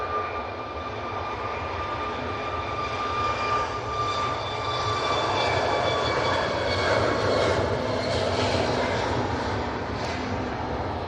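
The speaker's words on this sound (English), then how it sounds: "2 on the roll, using their 737 MAX 8" Boeing 737 MAX 8 on its takeoff roll at Manchester Airport in stormy weather, a steady loud jet engine roar with whining tones holding throughout, slightly swelling toward the end.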